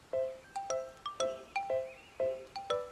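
A phone ringtone plays a repeating melody of bright, clean electronic notes in quick short bursts, loud and close, with no voices.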